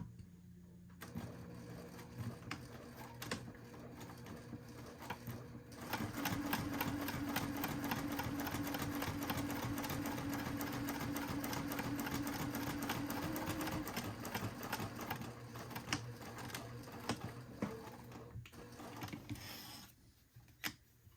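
A sewing machine backstitching a leather batwing wallet runs as a rapid steady mechanical chatter for about fifteen seconds, with a softer start and a brief pause near the end.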